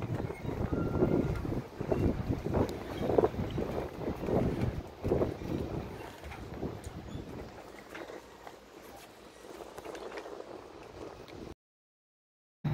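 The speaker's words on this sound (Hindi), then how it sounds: "अभी हमारा बोट ट्रिप स्टार्ट होने वाला है।" A tour boat in Stockholm getting underway, with a rumbling engine and water rushing alongside under gusty wind buffeting the microphone, easing to a quieter hum before the sound cuts out.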